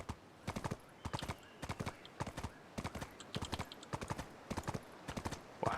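A horse walks in the fantasy game Black Desert, its hooves clip-clopping in a steady, evenly paced rhythm of sharp doubled knocks. The footfalls are close and clear and go on without pause across the whole stretch, with no voices over them.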